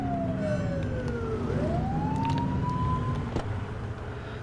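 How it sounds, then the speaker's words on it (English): A police car siren in a police video game wails and sweeps, falling then rising in pitch over a steady engine hum, loud and close with no speech. "Get behind them and flip the siren and make them pull over."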